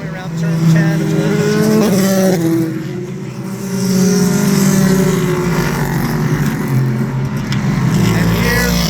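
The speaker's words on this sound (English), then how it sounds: "here come the LMP2s" LMP2 prototype race cars roar past through turn 10 at Petit Le Mans, a loud sustained engine drone with pitch shifts as cars approach and pass, with a voice talking over it.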